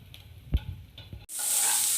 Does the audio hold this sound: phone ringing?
no